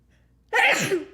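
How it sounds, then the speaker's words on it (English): A single sharp human sneeze breaks a quiet room, one loud close burst that tails off quickly, from someone with sinus trouble during dry Santa Ana winds. "I've been sneezing like crazy all day."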